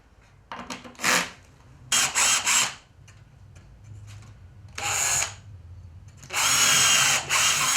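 Short bursts of a cordless drill whirring in four separate runs as it drives screws into pallet wood, clutch slipping at its torque setting, with quieter scraping and handling sounds in between.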